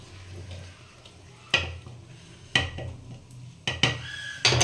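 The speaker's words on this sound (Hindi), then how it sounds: "इसको हम चला लेते हैं" Spinach curry stirred in a metal pot, with several sharp scraping clanks of a spoon against the pot at irregular intervals over a faint background.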